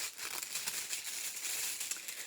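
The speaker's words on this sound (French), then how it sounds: "je déballe" Plastic wrapping on a boxed massage-oil gift set crinkles and rustles continuously as it is unwrapped up close, with dense papery crackles and no voice over it.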